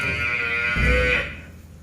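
A single loud, drawn-out bellow from a water buffalo, close by, fading off toward the end.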